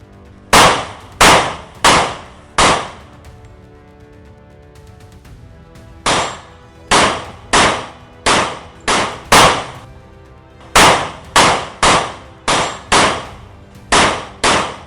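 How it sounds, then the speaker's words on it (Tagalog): Loud gunfire cracks out in rapid clusters of sharp shots with brief pauses between the volleys, close and harsh, no voices over it. "Narinig mo Ligaya. Mga putok ng baril ko."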